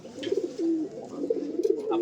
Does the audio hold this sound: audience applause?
no